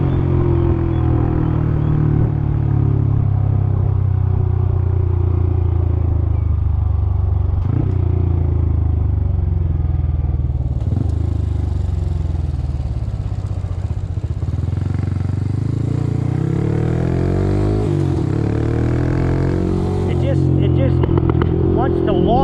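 A Honda CT motorcycle engine revving under light throttle, a close, steady low rumble that rises and falls with the throttle, with someone talking over it throughout.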